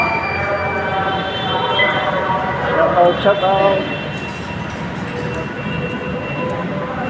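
A metro train rumbles and squeals along the rails at an elevated MRT station, with steady mechanical noise throughout and a person talking over it.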